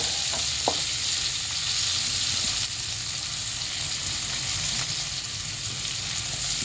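Garlic and onion sauté in a pan with an unbroken, close sizzle, a couple of faint utensil taps near the start and no one talking.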